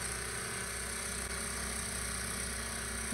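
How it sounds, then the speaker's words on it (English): A snowblower engine runs steadily, heard as a recording being played back: a continuous, even mechanical drone with a faint hum and no break for the whole stretch. "This is a video that I made a few days ago. On my snowblower."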